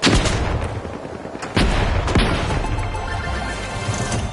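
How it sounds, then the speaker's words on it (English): A frag grenade goes off in the video game The Finals, one of several sharp, loud blasts and crashes in a busy burst of gunfire-like impacts, followed by a rumbling decay. "Frag out! Sending a frag."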